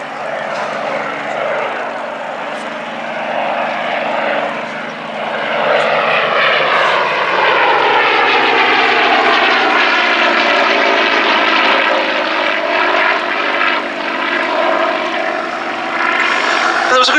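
Hawker Nimrod II and Fury I biplanes make a pass at the Duxford Battle of Britain air show, their piston engines droning loudly and swelling as they fly by, with a commentator talking over them.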